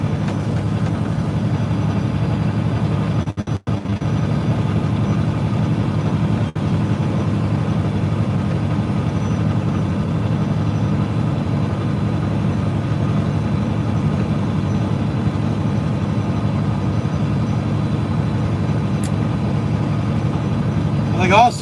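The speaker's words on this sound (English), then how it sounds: "Engine's getting a little loud." A truck engine idles loud and steady from inside the cab, a constant low rumble that continues unbroken throughout with a brief knock partway in.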